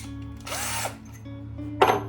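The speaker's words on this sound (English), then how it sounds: "Got your power drill." A power drill whirs in two short bursts, the first revving up and down, the second sharper, with a low mechanical hum underneath.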